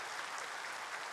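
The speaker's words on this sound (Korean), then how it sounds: "우리 찬양대 너무 고마워서 우리 격려 박수 한번 해줍시다" A Korean church congregation at a Sunday morning service claps in appreciation of the choir, a brief, even burst of many hands applauding in a large room.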